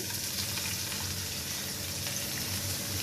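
Chopped onions sizzle and fry steadily in a hot pan for a fish curry, a dense, even crackle that holds at the same level throughout with no talk.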